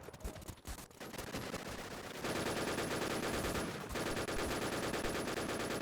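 Rapid automatic gunfire in a Lego-map shooter video game, a dense sustained burst of shots that runs almost continuously for several seconds, loud and close, with no voices over it.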